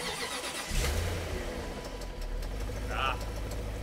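A used Range Rover's engine cranks and catches, then settles into a steady, slightly rough idle close by, with a brief higher whine near the end.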